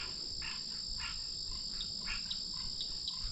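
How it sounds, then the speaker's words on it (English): Frogs and insects calling at night by a country lake in spring after rain, a steady high trill with repeated short chirps pulsing through, fairly close and continuous, no voices. "And we're down here to hear the frogs."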